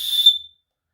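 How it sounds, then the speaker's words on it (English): A shrill, piercing blast from a small whistle built into the handle of a fire-starter striker, blown once indoors for about half a second, loud and close, then silence. "it also has a whistle built into the handle of the striker."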